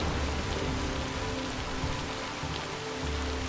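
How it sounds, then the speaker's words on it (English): Steady rain falling in the video game Assassin's Creed Shadows, a continuous broadband hiss of drops on surfaces with a low rumbling undertone, even and close throughout with no voices. "Ooh, it's raining."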